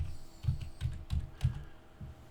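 Keys tap on a computer keyboard as a short, uneven burst of about six soft, close clicks, with no voices.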